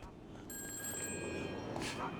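A telephone rings in the video game GTA 5, a thin electronic trill sounding over game noise and a low background murmur, with someone talking nearby.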